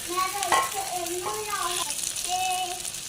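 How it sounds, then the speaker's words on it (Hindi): Potato snacks frying in hot oil, a continuous close sizzle under a person speaking over it. "तो अब हम इसे फ्राई करते हैं।"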